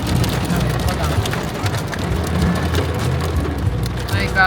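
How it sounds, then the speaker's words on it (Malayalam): Dense pattering hits a surface continuously, a steady rattling downpour of hailstones close by in the UK, with some background rumble. "ടപ്പ് ടപ്പ് എന്ന് പറഞ്ഞ് അടിച്ചടിച്ച് ആലിപ്പഴം വീഴുക"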